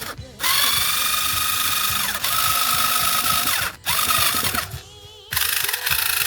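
A small all-in-one cordless screwdriver whirs loudly at close range in several sustained runs, its motor pitch dipping and recovering between brief stops.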